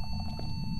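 A ghost sound in the horror video game Phasmophobia, a brief eerie tonal chirping and pinging over a steady low rumble of game ambience, short and moderately loud with no talk.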